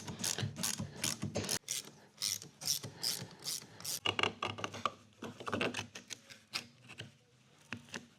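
Fox QSE mountain bike shock being installed, with quick ratcheting clicks, mechanical rubbing and rasping in dense close bursts, pausing briefly before resuming.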